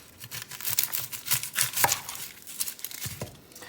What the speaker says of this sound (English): I'm just going to slice up this Vidalia onion